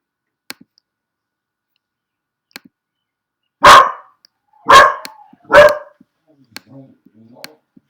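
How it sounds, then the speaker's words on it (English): A dog barks three times in quick succession, loud and close, with faint clicks and quiet stretches around the barks. "Sorry for my dog."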